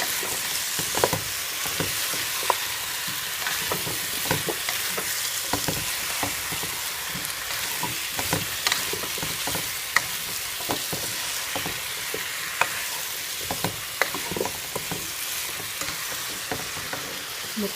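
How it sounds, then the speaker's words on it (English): Japanese chicken curry sizzling and frying in a pan with a splash of water and little oil, a steady loud hiss with scattered scraping stir strokes throughout, close up and with no talk. "so get that all stirred up."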